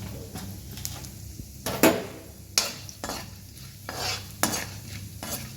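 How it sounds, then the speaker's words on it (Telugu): Coriander seeds, urad dal, chana dal and cumin fry in oil as a spoon stirs and scrapes the pan in irregular strokes over a soft, steady sizzle, close by. "వేపుకోవాలి రంగు వచ్చే వరకు"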